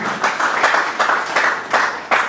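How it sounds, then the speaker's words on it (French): An audience applauds award recipients at a ceremony in Boma: steady, dense clapping with rhythmic swells, fairly close and continuous throughout, with no talking over it. "Je demande à l'assistant de bien vouloir les applaudir"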